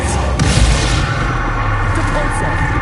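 A Confringo fire curse in Hogwarts Legacy on PS5 detonates as a loud, heavy boom with dense rumbling and crackle that holds for several seconds, with game sounds layered around it.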